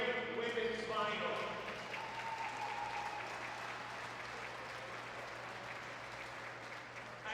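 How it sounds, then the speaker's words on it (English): Audience applause for a women's ball hockey national championship final, a steady broad wash of clapping that holds evenly throughout, with some voices and hum underneath. "Let's have a round of applause for a great women's final."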